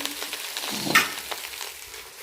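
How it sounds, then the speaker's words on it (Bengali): Fried rice frying and being stirred in white oil in a home kitchen, a soft continuous sizzle with scraping of the spatula and one brighter crackle near the middle, close and steady, with no talking. "ফ্রাইড রাইস হচ্ছে"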